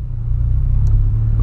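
A Volkswagen Polo with a 4-inch exhaust and sport muffler revs close by, a deep, steady rumbling burble that swells slightly over a short burst.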